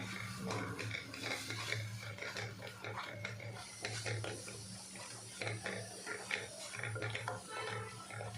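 Turmeric being stirred into raw tomato thecha with a spoon: steady scraping and clinking of utensil against the bowl, with a constant low hum underneath and no talking.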